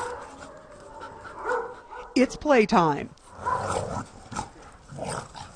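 Rescued shelter dogs in Istanbul, once abandoned on the streets, bark and whimper in a quick burst of yips near the middle, close and loud, with a person talking before and after.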